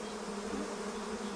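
Giant Asiatic honeybees, the largest honeybee species, swarm around wild colonies in Malaysia with a steady, dense, close buzzing hum that holds without a break.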